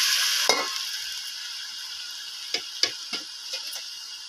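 Chicken sizzling as it fries in a pan for a Bihari-style curry, a steady hiss punctuated by several sharp scraping knocks of a spoon stirring, close and alone without speech.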